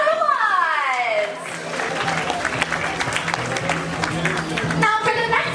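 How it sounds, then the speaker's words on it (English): Audience applause from a crowd of children and adults at a dolphin show in a Miami marine park, a steady wash of clapping that carries on throughout with a few voices and cheers mixed in. "Why don't you guys give yourselves a big round of applause?"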